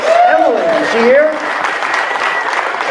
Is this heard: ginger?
no